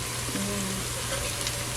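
Okra frying in a pot gives a steady, dense sizzle with a fine crackle, close and even throughout, with no voices.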